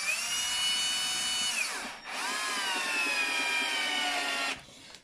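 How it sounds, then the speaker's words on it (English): Power driver running screws into a boiler thermostat receiver: two close, high whining bursts of motor spin with a brief pause between them. "So what I'm going to do now is just going to pop a couple of screws into here."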